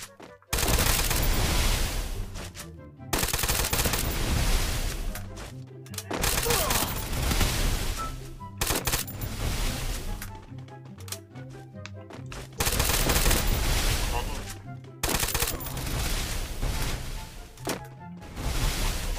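Dense, loud bursts of automatic gunfire from the Free Fire battle royale game, rattling almost continuously in long volleys broken by brief silent gaps.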